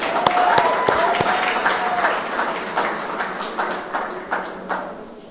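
Applause rises from an audience at an award presentation, a busy patter of claps with a few sharp individual hits and faint voices underneath, tapering off in softer bursts.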